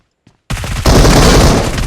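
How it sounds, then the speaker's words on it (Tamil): M4 rifle fire in a video game: after a brief near-silence, a sudden loud burst of rapid automatic shots breaks in and continues densely to the end. "M4 புல்லட் இல்லையா?"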